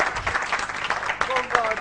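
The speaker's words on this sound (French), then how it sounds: "Applaudissements pour l'équipe de Paradise" Audience applause for a dance team on a French TV celebrity challenge show, a dense bed of clapping that runs throughout while a presenter's voice cuts in over it.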